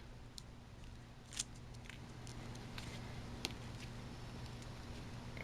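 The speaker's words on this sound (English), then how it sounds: "Then I'm going to use my micro tip scissors to pull off that plastic." A few quiet, sharp snips of small scissors, spaced irregularly over a faint steady hum, with no talking.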